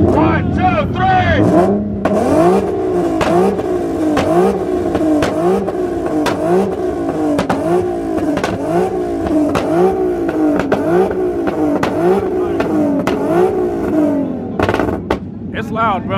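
A loud truck engine at a two-step competition holds against the limiter, with rapid rhythmic popping bursts that run steadily for over ten seconds before cutting off near the end, with faint voices around.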